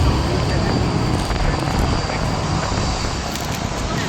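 Ryanair airliner taking off at Manchester Airport, a steady broadband jet roar filling the whole span, with someone talking over it.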